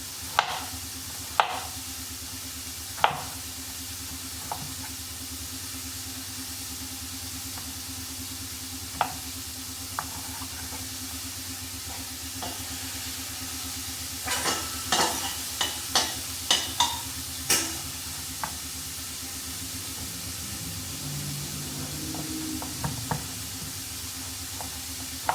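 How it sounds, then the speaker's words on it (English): Carrots and onions sautéing in a pan for enchiladas, a low steady sizzle with scattered sharp knocks and scrapes of a utensil against the pan, clustered in the middle and otherwise sparse. "So we're sauteing and sauteing. I've got the carrots and the onions pretty much done."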